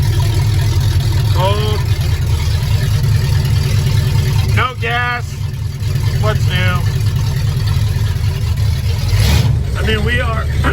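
A car engine idling steadily after a cold start, with a loud, constant low rumble throughout while people talk over it close by.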